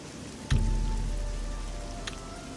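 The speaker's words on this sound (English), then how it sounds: "Okay, rain is really loud." Heavy rain pours in the fantasy video game Oblivion, a loud, steady hiss that surges in abruptly and then holds as a continuous close downpour.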